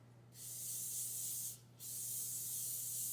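Cooking spray hisses onto a muffin tin in two short bursts, a long spray followed by a brief pause and a second steady spray, close and fairly loud over a low background hum.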